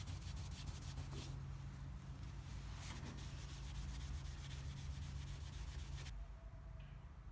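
Steady rubbing of compound on the rusty dashboard of a 1958 VW Beetle, a continuous scratchy swishing with slightly stronger strokes partway through, close and alone before it stops near the end.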